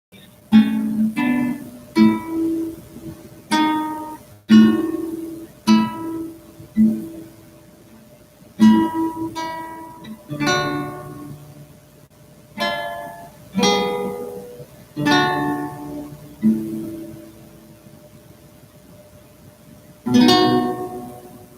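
A guitar plays a chord passage from Old Rugged Cross, moving through a D and resolving chords in a slow series of separate plucked and strummed chords, each ringing and decaying, close and clear with no talking.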